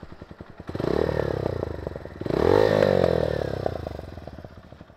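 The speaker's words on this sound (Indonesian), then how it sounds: "Dan suara mesinnya juga lebih konstan kan, gitu ya." A motorcycle engine running close by, with a rapid pulsing idle that swells into two revs, the second higher and longer, before settling back.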